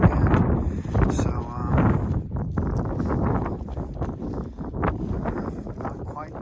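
Strong wind buffets a campsite while a tarp shelter goes up, with continuous gusty rumble and rustling and a person talking over it throughout.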